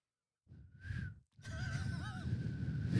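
A breathy, wavering whistle sounds twice, the second longer and shakier, with airy noise around the pitch as if someone is struggling to whistle.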